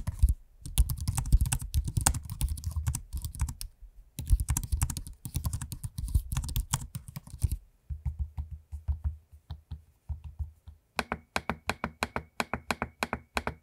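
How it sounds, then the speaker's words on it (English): Steady, close-up typing on a Gigabyte Aero 14 OLED laptop keyboard with rapid key taps, then a pause and a run of sharper, evenly spaced trackpad clicks. "Here's a quick audio sample of me using the keyboard and trackpad so you can hear what they sound like"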